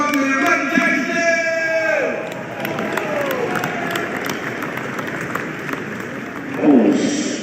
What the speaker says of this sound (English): everybody, clap your hands, make some noise for my man, Mike Tyson!